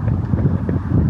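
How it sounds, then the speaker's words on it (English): Strong, steady wind roars into the microphone during a marathon training run, a low continuous buffeting rumble that stays loud and close the whole time. "it is so windy"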